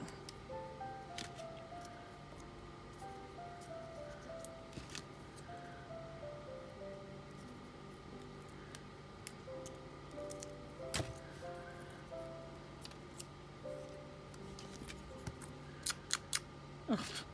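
Scissors snip a paper holly leaf in faint, scattered cuts and clicks over a soft background melody and low hum.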